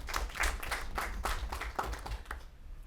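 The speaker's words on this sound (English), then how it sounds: "we have to give him the round of applause for this" Applause for the Prime Minister at a government contract signing for housing projects in Dominica: a steady round of clapping hands from the audience, continuous over the low rumble of the room and thinning out toward the end.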